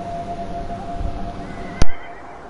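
A horse in the video game Beyond: Two Souls whinnies once over a steady ambient background, followed by a sharp click and a quieter tail of sound.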